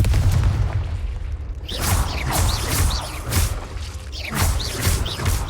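Confringo fire-blast spell explosions in the Hogwarts Legacy game on PC, set in a cave: loud booming bursts with whooshing tails, the second arriving around two seconds in and another near four seconds, over steady low rumble.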